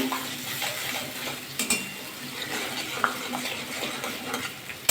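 Eggplant tossed with salt and sugar is stirred in a pan, a soft continuous scraping and light sizzle with a few sharper utensil clinks, fairly quiet and close, with no speech.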